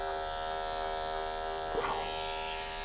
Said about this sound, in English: Turn the blade on, turn the clipper on.